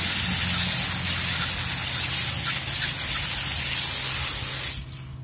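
A garden hose with a worn nozzle sprays water onto car wheels, producing a loud, steady, close hiss that cuts off abruptly just before the end.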